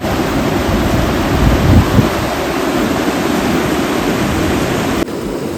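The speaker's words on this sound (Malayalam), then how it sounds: "ഇതാണ് ആ തടയണ. നല്ല ഒഴുക്കുണ്ട്" Strong river current pours over a weir in Halle, Germany, a loud continuous rushing roar of water heard close and unbroken, with no voices.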